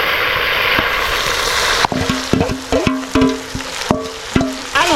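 Onion mixed with lemon juice sizzles in hot oil for Senegalese yassa, a steady frying hiss broken by sharp metallic clanks and scrapes of stirring in a clear, uneven rhythm.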